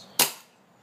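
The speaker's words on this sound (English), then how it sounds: "What happens if you don't have ammo and you shoot the pistol? This is what happens." A WE 1911 MEU airsoft pistol dry fires with no ammo loaded, giving a single sharp snap of the slide and hammer that fades fast into quiet. It sounds close and crisp.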